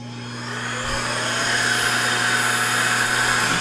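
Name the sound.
Rodex blower blowing air on a box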